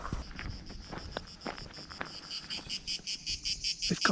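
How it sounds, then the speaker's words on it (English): Loud insects, cicadas or crickets, shrill and continuous in the Croatian outdoors, pulsing in steady rhythmic bursts that swell louder toward the end, with a few soft footstep-like thumps underneath. "They've got these very loud bugs here."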